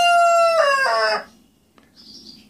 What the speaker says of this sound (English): Got an old rooster wanting to chime in here.